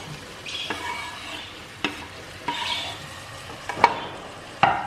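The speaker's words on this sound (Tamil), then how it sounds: "தக்காளி ஆட் பண்ணிவிட்டு ஒரு 5 நிமிஷம் அது கொஞ்சம் மசிஞ்சு வர்ற வரைக்கும் நல்லா மிக்ஸ் பண்ணிடலாம்." Chopped tomatoes stirred and fried in a pan for mutton curry, a soft continuous sizzle broken by several sharp scrapes and knocks of a spoon against the pan, close by with no talking.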